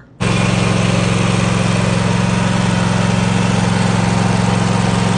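A riding lawn mower engine with a newly machined cylinder head starts up abruptly and runs steadily and loudly, with a constant droning rumble and no voices.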